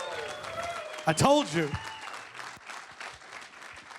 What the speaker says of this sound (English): Can I get a round of applause, please, for Fletcher frickin' Cox?